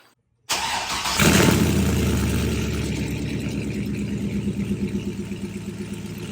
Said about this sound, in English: we're gonna do a cold start of a week of not running real quick and get on the road